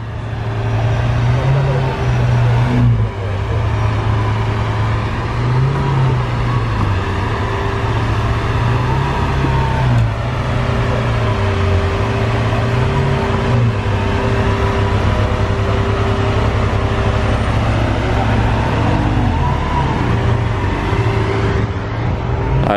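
A Lamborghini Veneno Roadster engine running and revving on a street in Juan-les-Pins, a loud steady drone with deep pitch swells as the revs rise and fall over the whole stretch, with faint voices underneath.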